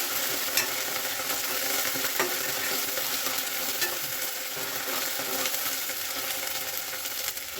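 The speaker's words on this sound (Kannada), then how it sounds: "ಶುಂಠಿ ಬೆಳ್ಳುಳ್ಳಿ ಪೇಸ್ಟ್ ಸ್ವಲ್ಪ ಎಣ್ಣೆ ಚೆನ್ನಾಗಿ ಫ್ರೈ ಆಗಬೇಕು" Ginger garlic paste frying in oil in a pan for tomato rice, a steady close sizzle with soft stirring scrapes, no talking.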